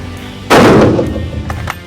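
A single loud Holland & Holland shotgun shot at a shooting ground target, a sharp close blast with a decaying echo, followed by faint clicks.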